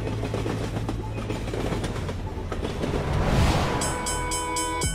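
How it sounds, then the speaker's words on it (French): A passing train rumbles loudly with rhythmic clickety-clack, and near the end comes a bright, repeated horn or whistle. "Un train."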